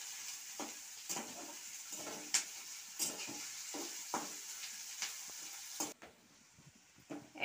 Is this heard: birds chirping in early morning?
no